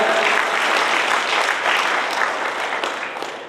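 Loud, dense applause fills a hall at a talent-honouring award ceremony in Bikaner, marking a 130th birth-anniversary celebration. The clapping stays steady and full throughout, easing slightly toward the end.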